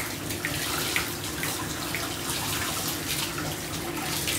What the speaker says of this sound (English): So make sure when you're rinsing out the water, make sure it's all clear, like mine.